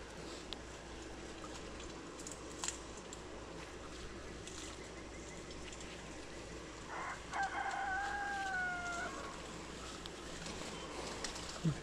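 A faint rooster crows once in the distance, its call rising and wavering over steady outdoor background noise.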